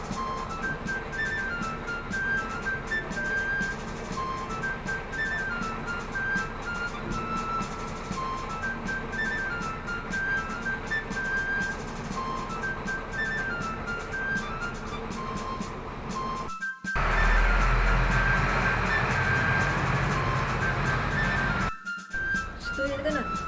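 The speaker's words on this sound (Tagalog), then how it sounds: "Andyan na naman ang truck." A truck rumbles steadily outside, with faint high beeping tones layered over a constant low engine drone, closer and louder toward the end, while voices talk indoors.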